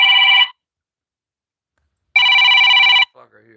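A phone rings in two bursts of electronic trilling tones, a short one and then a longer one after a gap of silence, loud and close, with brief faint sounds following.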